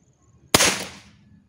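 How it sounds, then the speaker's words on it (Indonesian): A single sharp crack from an upgraded Umarex Walther CP88 Competition air pistol firing an RWS pellet, loud and close after near silence, with a short decaying tail. "Kita tes dengan RWS dulu. Oke, tembakan pertama."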